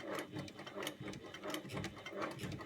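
A sewing machine stitches bias binding along a seam, a close, continuous rapid mechanical whirring with a steady rhythmic needle pulse, fairly quiet and alone.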